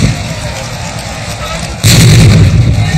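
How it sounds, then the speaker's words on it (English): A cannon fires to mark the end of the Venice regatta, one sudden loud boom that breaks a background of crowd and water noise and rings on in a rumbling tail. "with seconds until the cannon marks the regatta's end"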